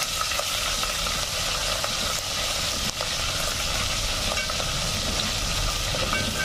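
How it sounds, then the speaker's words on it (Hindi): Ginger and garam masala sizzle steadily as they are sautéed in a pan, a continuous close frying hiss with occasional soft clicks of stirring. "और ये सारे को हम अच्छे से भून के ले लेंगे।"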